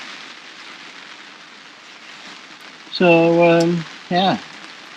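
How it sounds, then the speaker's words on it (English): Rain patters steadily on a fishing umbrella at a lakeside angling match, a constant close hiss that carries on under a brief spoken remark. "the rain's come, and I thought, I can't be doing with this, so I've whacked brolly up"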